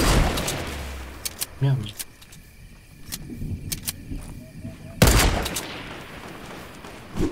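Gunshots in a video game, including a sharp loud crack near the end, come amid game noise, with someone speaking French at the start.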